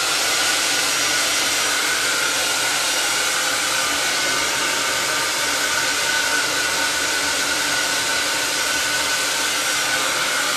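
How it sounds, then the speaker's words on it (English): Blow dryer drying hair, a loud, steady airy whoosh with a constant motor whine that runs unbroken for the whole stretch, with no one speaking over it. "So, sometimes if you hold a blow dryer, it like legitimately burns your head."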